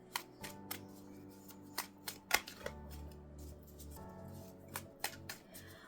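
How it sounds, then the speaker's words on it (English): A deck of Fairy Tarot cards is riffled and shuffled by hand, giving a run of sharp flutters and slaps at an uneven rhythm, close and fairly soft, with no one talking. "I'm going to have another shuffle, and I'll have a really good shuffle"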